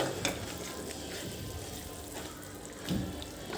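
Garam masala and fresh coriander being stirred into sizzling cheesy paneer gotalo in a pan, a soft steady frying hiss with faint scraping of the spoon, fairly quiet and continuous.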